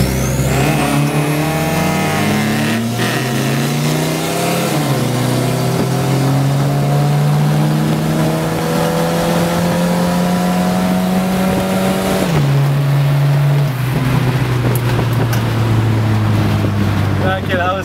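A Volvo drift car and a Subaru BRZ race side by side, engines loud and close, rising through the gears with distinct shifts, with heavy wind buffeting the microphone throughout.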